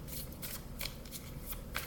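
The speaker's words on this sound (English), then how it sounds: "I'm just going to shuffle here. I'm going to shuffle." Tarot cards being shuffled by hand, a steady papery riffle of soft rustles and quick slaps running throughout, with no talking.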